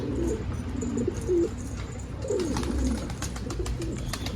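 Wild pigeons coo around a captured sick Arab post pigeon with a marble-like lump on its neck, a few low throaty coos nearby over steady rustling and faint chirps.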